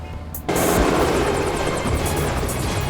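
A helicopter roars loudly overhead, its rotor chop and engine whine starting abruptly and then continuing as a dense, steady drone.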